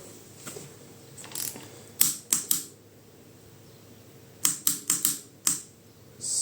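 A torque wrench tightens bolts on a Fiat, Alfa Romeo or Lancia C530 gearbox. Sharp ratcheting clicks come in two quick bursts separated by a pause, heard close and clear with no talking.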